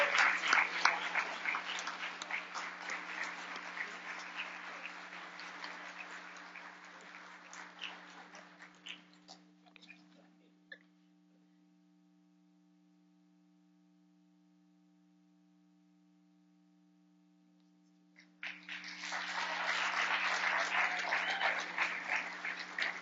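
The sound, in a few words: audience applause welcoming award recipient Adriana Hicks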